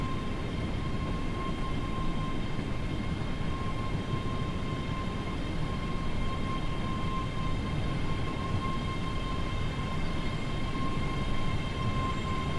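A locomotive in Train Sim World rumbles steadily as it rolls into sidings at dawn, a continuous low drone with a faint high tonal whine and no talk.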